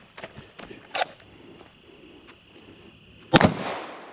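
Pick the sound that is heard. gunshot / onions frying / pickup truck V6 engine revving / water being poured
gunshot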